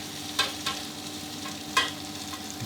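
Fried egg tofu stir-fried with chili and salt in a pan, giving a low steady sizzle broken by a few sharp scraping clicks of a utensil, close and moderately loud with no talking.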